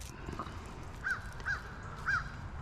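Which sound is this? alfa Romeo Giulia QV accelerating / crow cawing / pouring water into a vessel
crow cawing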